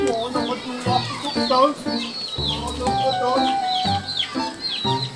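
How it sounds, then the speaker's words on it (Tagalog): A fighting rooster clucks amid nearby talking voices, short busy calls overlapping speech throughout. "Ito ko manok."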